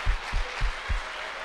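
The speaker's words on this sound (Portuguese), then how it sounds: "Dá uma salva de palmas para Jesus" A church congregation claps for Jesus during a service, the applause coming as a few rhythmic, evenly spaced bursts of hand claps with no talking over them.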